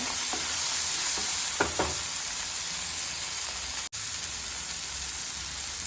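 Onion and tomato sizzle steadily in a pan, with a few spoon-scrape stirs early on and a brief click near the middle, all close and without talk.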